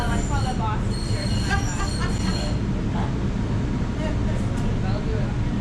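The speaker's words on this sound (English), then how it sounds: "How do you like the train, Mom? She loves the train." A train riding on rails on a New England trip, loud and close with continuous rumble and squealing wheel tones, with people talking over it.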